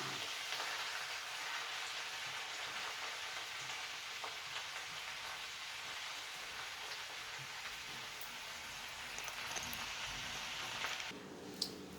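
Lacinato kale greens sautéing in a pan, a steady, even hiss of sizzling like light rain that continues alone throughout, with a few faint clinks near the end.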